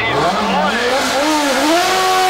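A 1977 Renault P34 six-wheel Formula One car, driven at a historic F1 event at Goodwood, screams past at speed, its engine note sweeping in pitch with a brief tyre squeal, loud and close as a commentator talks over it.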